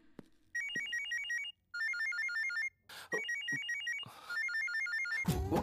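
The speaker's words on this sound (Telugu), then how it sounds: "అతని ఫోన్ ఎలా రింగ్ అవుతుంది?" A mobile phone rings in a classroom, its bright electronic ringtone melody repeating in several loud bursts separated by brief pauses, with a few knocks and rustles in between.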